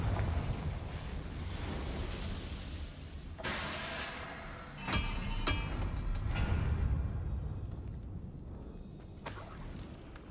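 Confringo blasting spell going off in Hogwarts Legacy, a sudden loud burst followed by sharp crackling impacts and a rumbling debris-laden tail over ambient game wind.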